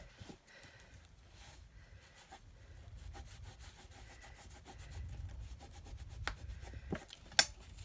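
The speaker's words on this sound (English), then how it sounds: "I've got this microfiber cloth that will do the same. So polish it off, and your colours become more vibrant." Microfiber cloth rubbed over an embossed paper card, soft repeated scrubbing strokes close up in an irregular rhythm, with a few taps and a sharp click near the end.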